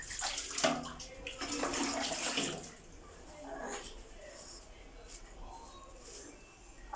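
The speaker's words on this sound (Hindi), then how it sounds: "आप उस पर पानी डाल सकते हैं।" Water is poured over a newborn baby during an Indian-style bath, with a splashing, gushing pour that fades after a few seconds. Soft voices and distant cooing pigeons are heard in the background.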